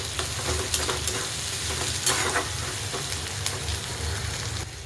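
Tomatoes and curry leaves sizzle steadily in hot oil, a continuous dense frying crackle with occasional sharper pops and stirring scrapes, close and fairly loud throughout.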